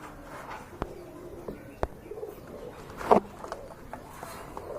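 Rajgolla pigeons coo softly and intermittently nearby, low murmuring calls with a couple of sharp knocks and one brief louder burst amid faint background noise.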